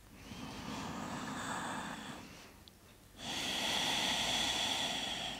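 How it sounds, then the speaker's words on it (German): Slow, calm breathing during a gentle yoga session, soft airy inhales and exhales rising and falling steadily, fairly close with no talking. "Ruhig atmen."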